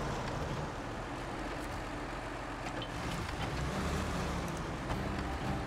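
Kenworth truck engine in a trucking game hauling a construction trailer, a loud continuous low-frequency drone with roadway roar and a few brief higher hissing or clicking accents.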